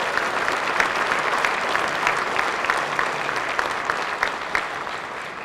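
A banquet audience at a regional roadeo gives another round of applause: continuous, full crowd clapping with crisp individual claps popping through, sustained for several seconds and tapering slightly near the end.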